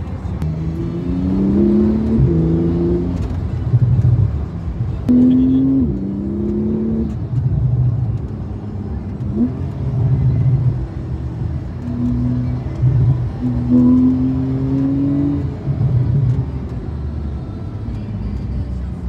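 A Techart GT Street R Porsche 991.1 drives along with a steady low engine hum that rises and falls through gear changes, heard from inside the car under ongoing conversation.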